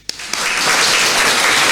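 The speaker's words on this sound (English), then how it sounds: "So, applause to all of us." A congregation at a church worship service breaks into full applause, starting with a couple of isolated claps and swelling into dense, sustained clapping that fills the room.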